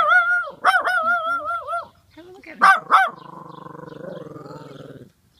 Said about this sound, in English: Yeah, such a quiet bark.